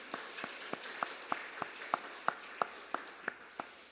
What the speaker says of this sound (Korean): 그렇게 해주실 우리 하나님께 박수로 감사하겠습니다